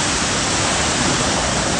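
Steady, dense roar of the Shubhedar waterfall in Murbad, Thane, in full monsoon flow, a constant broadband rush of falling water, loud and close without a break and with no voices.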